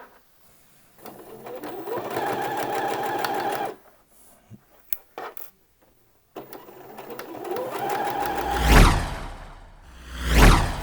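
A sewing machine stitches a seam along a trouser waistband, with the belt sandwiched between two layers, in two close, steady runs of rapid needle whirring separated by a pause filled with light handling clicks.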